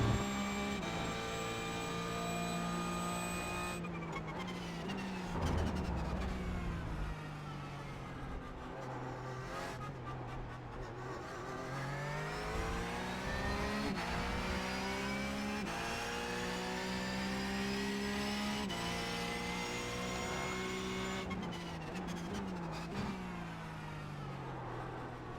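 A Porsche 911 GT3 Cup race car laps the Spa circuit, its engine rising and falling through gear changes, revving hard and steady from start to finish without any talking.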